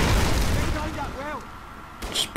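A grenade blast in the Call of Duty 3 video game bursts out loud and broad under a man's ongoing speech, with a second short boom rising near the end.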